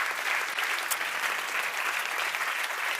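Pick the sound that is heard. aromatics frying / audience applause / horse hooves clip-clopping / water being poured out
audience applause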